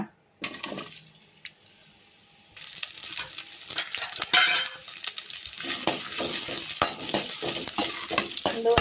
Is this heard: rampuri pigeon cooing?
no